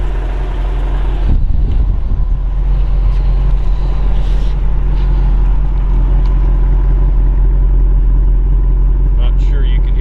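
A 1994 Chevrolet Corvette ZR-1 with the LT5 engine idles steadily, a low continuous rumble close by with a brief louder burst near the start and occasional voices over it.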